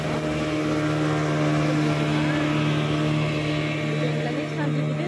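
A motorboat engine drones at a boat jetty near Semporna: a loud, continuous low hum that holds steady throughout, with faint voices in the background.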